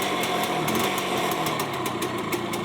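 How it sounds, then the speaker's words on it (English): An old veteran motorcycle engine runs with a steady, buzzing high-pitched drone, close and fairly even throughout, with a faint rhythmic ticking on top and no voices. "my dad had pulled out his veteran motorcycle from the depths of the garage"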